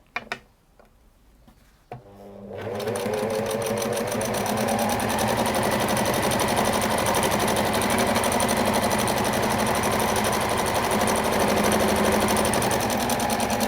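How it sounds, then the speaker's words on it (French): A sewing machine stitches fabric with the pins left in, starting after a couple of seconds of quiet handling and then running steadily and loudly at a fast, even whir until the end. "vous pouvez faire toute votre couture en laissant les épingles."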